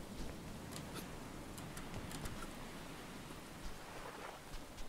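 Rain falls steadily in the survival video game Stranded Deep, a soft, continuous hiss with scattered faint ticks of drops, quiet throughout with no talking.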